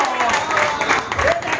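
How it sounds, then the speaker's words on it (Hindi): Crowd applause at a prize distribution function, a short burst of clapping with a voice speaking over it. "तो जो तालियां हो जाए।"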